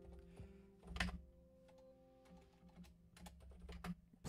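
Rapid keystrokes clack on a computer keyboard during a gaming session, in uneven bursts with a few heavier thumps, close and fairly quiet, with no talking.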